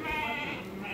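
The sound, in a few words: sheep bleating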